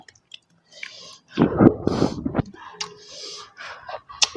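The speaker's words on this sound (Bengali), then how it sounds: "খাচ্ছি কলা পাতার মধ্যে" Homemade khichuri with ghee is chewed off a banana leaf close to the microphone, with wet, squishy bites and smacking in uneven bursts separated by short pauses, and no talking.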